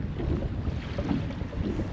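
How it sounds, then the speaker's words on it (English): Steady wind buffets a lakeside campsite by a boat, a broad continuous rush with gusty low rumble and no voices. "The wind just makes everything 10 times harder to do, more messy."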